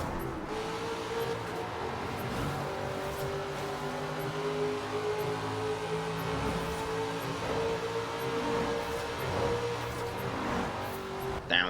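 A 1968 Pontiac Firebird drag car engine in Forza Horizon 4 revving hard inside a tunnel, a steady loud droning roar with rising pitch and echoing resonance, no talking.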